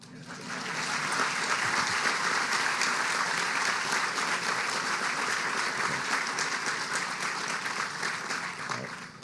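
A crowd claps at a school grand opening ceremony in Morganton, North Carolina, the applause swelling quickly, holding steady and thick for several seconds, then thinning slightly toward the end.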